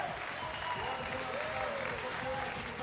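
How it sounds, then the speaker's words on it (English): A crowd at a strongman competition applauds and cheers on a German competitor, a dense, steady roar of clapping and voices that carries through the whole moment. "This crowd egging on the German."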